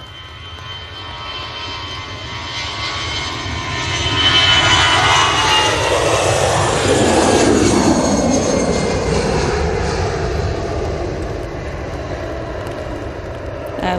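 An Aer Lingus Airbus A320 jet passes at Manchester Airport, its engine roar swelling from a distant whine to a loud, broad rush overhead, then slowly fading away.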